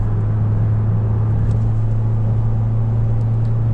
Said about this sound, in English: you might be able to hear the wind noise